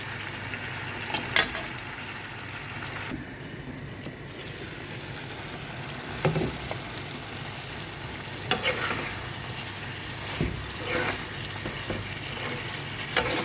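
Chicken sautés in a pan with a continuous faint sizzle, broken by several sharp clinks and scrapes of stirring, with no voices.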